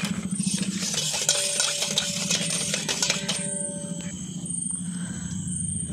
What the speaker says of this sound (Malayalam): നല്ലവണ്ണം മിക്സാക്കിക്കൊണ്ടിരിക്കുകയാണ്.